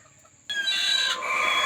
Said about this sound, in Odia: ଆଉ ଅନ୍ୟ କୁକୁଡ଼ା ଯଦି ବସିଥିବ ତାଙ୍କୁ ତ କାମୁଡ଼ା କୁମୁଡ଼ି କରି ଖେଦି ଦେଉଛନ୍ତି